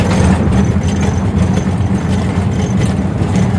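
Auto rickshaw engine running steadily on the road, a close, continuous low rumble with a busy buzzing texture and no pauses.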